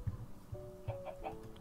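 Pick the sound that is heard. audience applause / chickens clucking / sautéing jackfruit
chickens clucking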